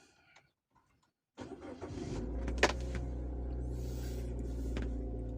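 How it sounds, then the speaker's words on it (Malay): A car engine cranks and catches after a brief silence, then settles into a steady idle close by, with a short click partway through; no one speaks. The car had just had its fault codes erased by a scanner. "kita start engine."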